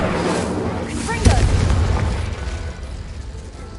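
A Confringo explosive spell blast in Hogwarts Legacy erupts as one sharp boom with a rumbling tail that fades over a few seconds, set against dense game noise and a voice.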